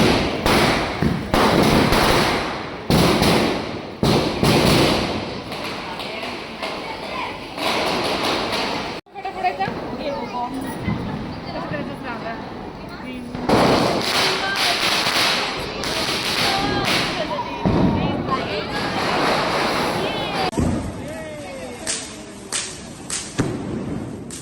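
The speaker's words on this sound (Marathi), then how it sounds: "तर फटाके उडवले" Diwali firecrackers being set off outside a home during Lakshmi Puja, sharp bangs and crackling bursts in uneven clusters, with excited family voices talking throughout.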